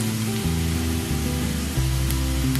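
Dried prawns and softened onions fry in a pan with a steady, loud, close hiss. A low hum runs underneath, and faint clicks sound near the end.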